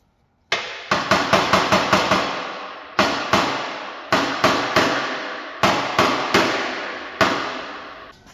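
Rapid, loud metallic hammer blows pound a dent out of a Nissan 240SX body panel, coming in quick clusters with short pauses between, each strike ringing sharply up close.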